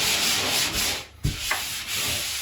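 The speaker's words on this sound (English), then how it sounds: "I do like to go and sand those down smooth, take off any high spots that are in the middle of these patches" Drywall compound patches are sanded smooth with steady, close scratchy rubbing strokes, one brief pause partway through before the sanding resumes, with no talking.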